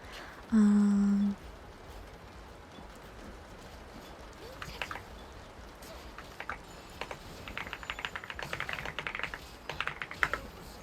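Soft, quiet tapping on a computer keyboard arrives in short irregular bursts after a brief tone, with the pace picking up toward the end against a hushed background.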